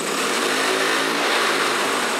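A repaired motorcycle engine runs at a steady, loud, continuous roar close by, with no talk over it.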